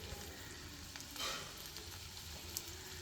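Pieces of eggplant frying in oil in a pan for Tamil ennai kathrikkai kuzhambu, a faint, steady sizzle with a few small pops and a brief stir, no voices.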